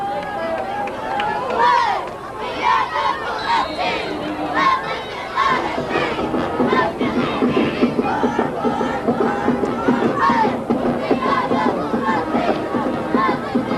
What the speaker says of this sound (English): Calera sure does have a pretty strong crowd over there. Oh, yes. Yes. They're really hyped.